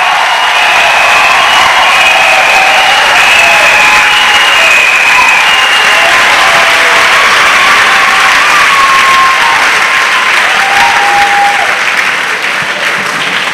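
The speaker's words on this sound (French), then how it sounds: "Clap offering to Jesus Christ." Congregation clapping and cheering at a church service, loud continuous clapping from a large crowd with shouts rising above it throughout.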